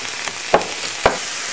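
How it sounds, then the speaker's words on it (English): Finely diced onions fry for potato chop, a constant close sizzle of oil broken by two sharp scraping stirs as the onions are broken up in the pan. "At this point I want to add my onions, which are finely diced, and just keep cooking and breaking it up."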